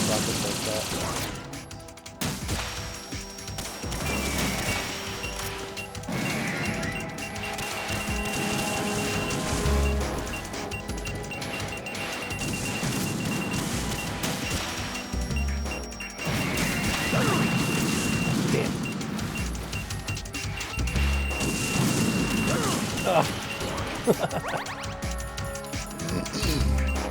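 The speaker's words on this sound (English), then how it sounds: "It's not worth it while they're firing rockets like that." Rockets and gunfire in Metal Gear Solid 2: Sons of Liberty, with a steady barrage of crashing blasts and rapid bursts running across the whole clip, heavy and close, layered over game music and effects.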